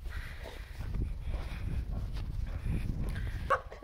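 Puppies outdoors give a few short, near barks and soft whimpers over a low rumbling background, with a sharper yip near the end.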